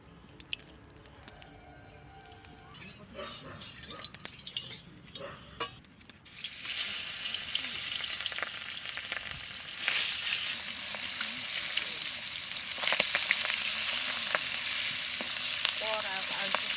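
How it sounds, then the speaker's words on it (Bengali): Oil starts sizzling loudly in a hot wok partway through, a steady crackling hiss that continues to the end after quieter kitchen clatter, as the oil heats for frying salted, turmeric-coated tangra fish. "কড়াই গরম হয়ে গেছে, তেল দিয়ে দিচ্ছি।"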